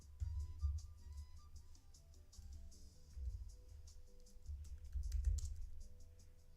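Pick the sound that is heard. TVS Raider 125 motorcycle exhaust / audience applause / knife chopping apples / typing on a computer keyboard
typing on a computer keyboard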